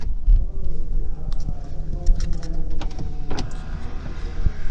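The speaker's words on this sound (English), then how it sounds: "let's actually put this in so that you can actually see the tweeters rising up as Matteo just intended." Motorized tweeters rise out of the dashboard of an Aston Martin Rapide GT car, a soft electric whir with small mechanical clicks over the low hum of the cabin, close up and with no one speaking.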